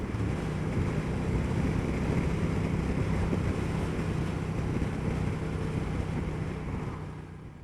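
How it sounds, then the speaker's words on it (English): A Moto Guzzi Mandello S motorcycle, sharing the Stelvio's engine, pulls away through traffic as a smooth, low-pitched engine drone steadily accelerates under heavy wind rush and fades slightly at the end. "It's the same engine as the Stelvio, lovely and smooth with plenty of low down torque."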